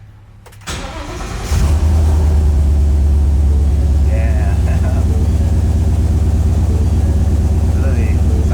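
A Ford Mustang, previously straight-piped, runs through a valvetronic exhaust with the valves closed: a loud, steady low engine drone after a start-up surge, continuous throughout, with a brief voice near the start.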